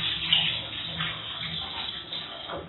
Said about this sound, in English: I'm just going to use this liquid detergent. So I'm just going to add it in the water.